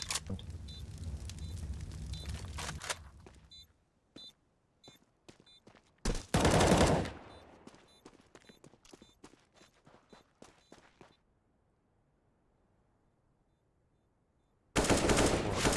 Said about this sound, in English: Hooksy from the bottom of mid, trying to rattle a few shots with the M4